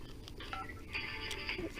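A telephone dials out to a marine electronics company, a quick sequence of faint electronic keypad tones beeping one after another over soft background noise.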